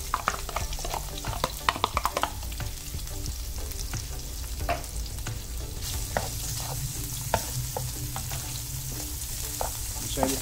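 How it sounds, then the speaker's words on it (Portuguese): Bacon frying in oil in a pan: a steady, close sizzle with frequent stirring clicks and scrapes, continuing throughout with no talk. "colocar um pouco de óleo. Vamos colocar o bacon para dar uma refogada."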